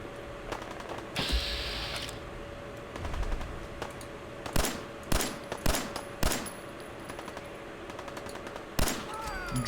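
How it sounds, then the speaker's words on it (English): Gunfire in the video game Fallout 4 across a ruined city: sharp single and paired shots crack out at irregular intervals, moderately distant, over a low ambient hum. "That is gunfire."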